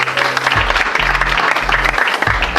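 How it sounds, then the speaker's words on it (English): A large conference audience at a Kenyan diaspora forum applauds a sponsor, dense sustained clapping throughout, loud and close, with a low hum pulsing underneath. "Can we have a round of applause for Unity Homes?"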